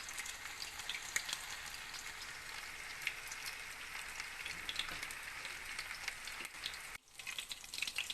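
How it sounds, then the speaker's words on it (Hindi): Chapli kebab frying in hot oil, a steady dense crackle and sizzle running unbroken for about seven seconds, then a brief dip before it resumes, fairly close with no voices. "इसे हम येलो फ्राई कर लेंगे।"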